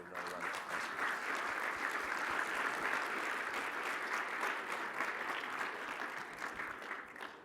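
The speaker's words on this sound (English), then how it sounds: "please help me join in our round of applause" A conference audience gives a round of applause after a sports analytics talk, a full, even wash of clapping that holds steady for several seconds and tapers slightly at the end.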